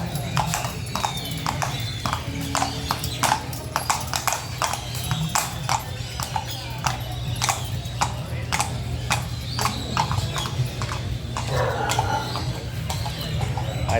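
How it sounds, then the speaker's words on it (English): A dancing horse's hooves clip-clop in a quick, sharp, steady rhythm on a hard surface close by, with chickens and birds faintly in the background and people talking over it. "He's got a dancing horse."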